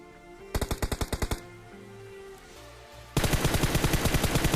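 Rapid automatic gunfire during a PUBG Mobile gunfight: a burst of about eight evenly spaced shots, a pause with faint background, then a louder, denser sustained burst.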